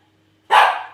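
A dog gives one loud, close bark indoors, sharp and sudden after silence.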